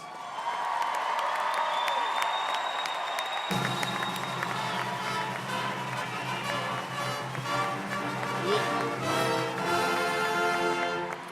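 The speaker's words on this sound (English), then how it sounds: "Let's give this class a round of applause." Audience applause and cheering for a graduating class at the Lincoln High School 2019 graduation, a large crowd clapping steadily with scattered whoops over a music or announcement tone, louder and fuller after the first few seconds.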